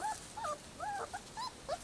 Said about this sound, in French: Je suis tombé sur un groupe de 10 chiots.